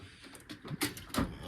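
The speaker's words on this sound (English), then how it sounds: "I still open up the wrong drawer every time" A tool-chest drawer slides open in a garage workshop during assembly of a body filler dispenser, giving a few short, close rattling scrapes and a sliding clunk over roughly a second.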